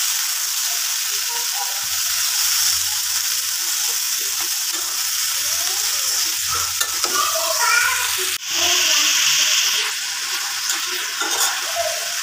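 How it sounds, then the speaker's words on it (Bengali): Chopped greens and onion sizzle steadily as they are tempered in hot oil in a wok, with stirring scrapes and clinks running through the frying hiss. "এই যে শাকের পেঁয়াজটা ভাজি নিতেছি, শাকটা বাগার দিয়ে দিতেছি।"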